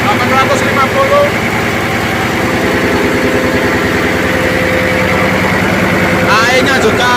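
An 850 hp Yanmar MF28 marine diesel engine runs in the engine room of the ship KM Artomoro 2, a loud, steady, rhythmic throbbing drone with mechanical clatter, while someone talks over it.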